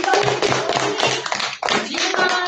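Group of boy scouts clapping their hands at a school gathering, dense overlapping claps with a brief dip midway, fairly loud and close.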